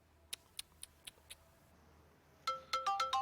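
A phone ringtone goes off in a quiet room, a few soft chirping tones followed by a louder, repeating melodic ring that swells near the end, with no talking over it.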